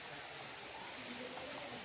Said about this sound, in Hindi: आप देख सकते हैं हल्की हल्की बारिश हो रही है